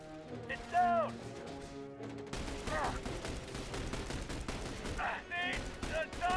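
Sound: enemy gunfire in The Bureau: XCOM Declassified video game

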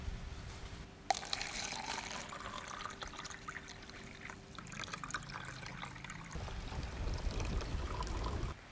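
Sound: pouring green apple jelly for kuchi ice

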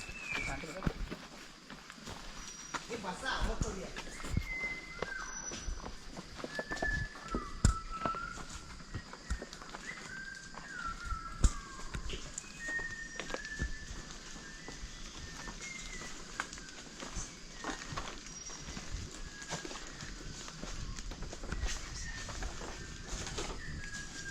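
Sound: birds singing in misty forest

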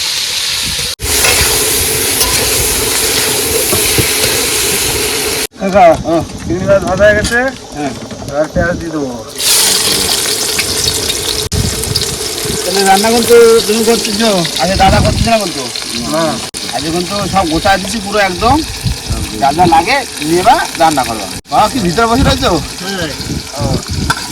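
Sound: fish frying in pan

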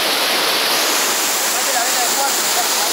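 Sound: stream flowing over rocks

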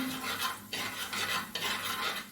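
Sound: roasting dried red chillies, curry leaves and chilli powder on low flame

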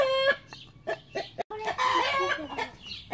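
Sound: chickens clucking

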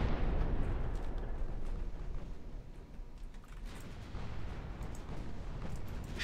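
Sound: naval gunfire hitting battleship in Ultimate Admiral Dreadnoughts video game

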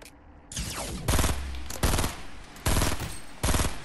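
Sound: gunfire in video game

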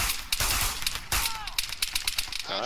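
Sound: gunfire in the video game Arma 3

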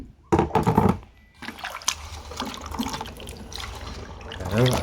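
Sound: washing lemons under running tap water

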